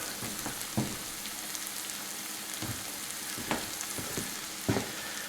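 Chili flakes fry in a pan with garlic for a chicken ramen dish, giving a steady, dense sizzle broken by a few soft knocks and stirring sounds.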